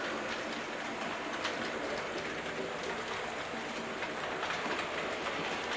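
Three model railway Terrier locomotives run along the track with a steady, continuous rumble and rattle of wheels. The sound is fairly faint and even, with no voices.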